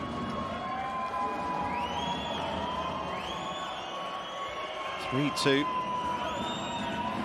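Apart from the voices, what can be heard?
sirens going off in an arena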